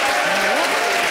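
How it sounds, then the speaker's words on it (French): An audience applauds a young woman volunteer brought up on stage at a live show. Dense steady clapping fills the whole short stretch and sounds close and loud, with no pause. "On peut l'applaudir, on peut l'encourager, la demoiselle, quoi."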